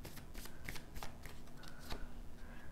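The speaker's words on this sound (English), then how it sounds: "Let's get three cards, please." Tarot cards being shuffled during a reading, giving a continuous close riffling and sliding rustle with soft card taps.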